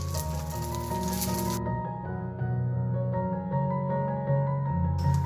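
An egg frying in a pan gives a crackling sizzle for the first second and a half. It drops away and then returns briefly at the end, all under steady background music.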